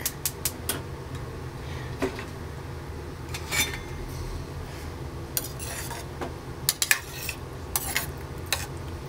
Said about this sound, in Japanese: 炒めていけばいいっていうこと